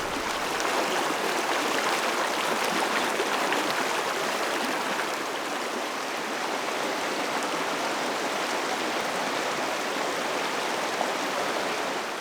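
A creek in a Zion canyon rushes steadily and close by, a dense, even wash of flowing water with no pauses.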